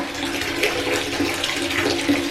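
Very hot water runs from a household tap in a steady, continuous gush, with no talking over it.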